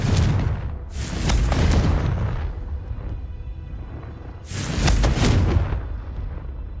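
A Confringo spell in a Ravenclaw video game playthrough sets off two deep, booming blasts a few seconds apart. Each one is loud and close, with a rumbling tail that fades slowly.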